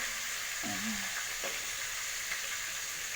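Katla fish frying in a pan gives a steady, close sizzle that holds at an even level throughout, with a few faint clinks near the start and no speech.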